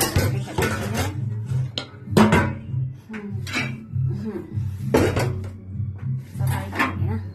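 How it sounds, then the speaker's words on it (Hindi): Dishes being washed in a home kitchen: steel pots, plates and utensils clatter and clink repeatedly over running water, loud and close, with brief quieter gaps between bursts. "सारे बर्तन कर देते हैं।"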